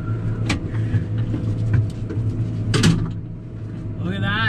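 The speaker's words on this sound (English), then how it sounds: "I just want to show you guys the dual direction mode on this swather" A swather rolls backwards in dual direction mode, its engine and machinery giving a steady low drone with clanks and mechanical knocks over it, and a louder clatter partway through.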